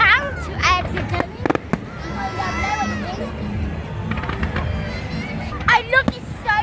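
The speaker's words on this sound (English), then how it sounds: "I wonder how much fireworks they put on." Fireworks go off at a bonfire night display, with whistling rockets and rapid crackling bursts at moderate distance, while a crowd murmurs and people talk nearby.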